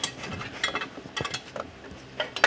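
An offset wrench loosens a hard-to-reach mount bolt on a Mercedes 300E 3.4 AMG, giving quiet, close ratcheting clicks and metallic ticks in short irregular bursts.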